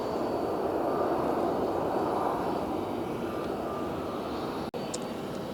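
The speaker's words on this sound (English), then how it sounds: "look at this Alaska MAX 9 jet shining a light on us." An Alaska Airlines Boeing 737 MAX 9 jet at Phoenix airport gives a steady, broad engine roar that stays loud and even throughout, with no voices over it.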